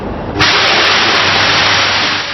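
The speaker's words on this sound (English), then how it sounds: "The smallest blast of steam creates momentary panic." Steam blasting at an old, obsolete Soviet-built nuclear reactor plant, heard as a sudden, loud, steady roaring hiss that begins with a thump and holds for about two seconds.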